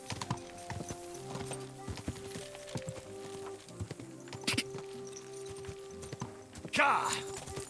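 Horse hooves clip-clop at a steady walking rhythm in Kingdom Come: Deliverance II, close and moderately loud beneath game music and a horse's whinny, with a louder burst near the end.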